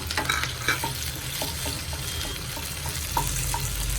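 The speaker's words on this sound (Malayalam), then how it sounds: "ഉള്ളി നന്നായിട്ട് മൂത്തിട്ടുണ്ട് അതിന് തക്കാളി ഇട്ട് കൊടുക്കാം" Onions, green chillies and curry leaves fry in a pan with tomato added, for a Kerala dried fish fry; a continuous close sizzle with scattered stirring clicks and scrapes.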